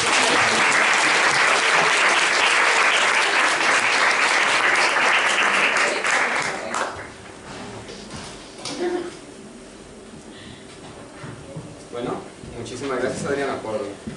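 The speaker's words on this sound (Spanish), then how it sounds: "un fuerte aplauso" Audience applause after a talk at an arts event, dense clapping for about seven seconds that then fades to scattered claps and room murmur.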